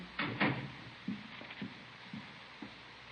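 A door closing as a radio drama sound effect, in an old-time crime radio show: a couple of sharp knocks and latch clicks followed by a few lighter clunks, faint and close, with no voices.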